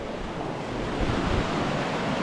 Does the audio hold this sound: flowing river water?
yes